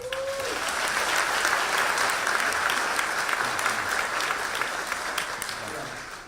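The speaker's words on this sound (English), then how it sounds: "A round of applause for Mark." Sustained applause from a large crowd at a DC tourism strategy event, welcoming Mark Patterson of Capital Turnaround, steady and dense throughout with a faint tone at the start.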